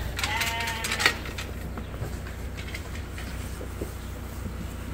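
Sheep and lambs in a barn with fresh bedding put down, bleating in a busy cluster of cries near the start, then a steady rustling, shuffling background with occasional fainter calls.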